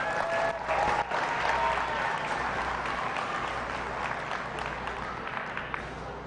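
Steady, sustained applause from a sizable crowd at a county youth fair and livestock show, loud and continuous from start to finish with a dense clatter of clapping hands.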